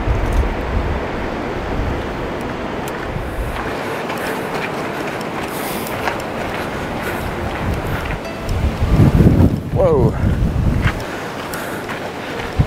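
Strong wind buffets a microphone on a mountain hiking trail in the Picos de Europa, a continuous rough roar that swells louder for a few seconds near the end.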